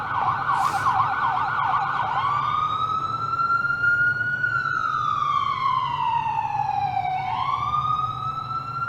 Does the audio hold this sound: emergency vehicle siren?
yes